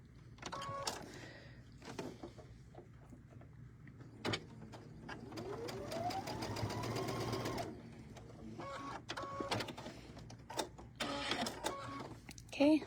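A sewing machine stitches quilting fabric pieces together for a tabletop banner, running in bursts of varying length, with one steady run in the middle and shorter starts and stops around it, with a person talking over parts of it.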